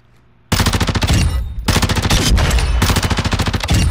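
Tempus Razorback rifle fired in a video game firing range: after a short quiet moment, loud, close, sustained full-auto bursts with rapid, even shot rhythm, broken by brief pauses between three long strings of fire.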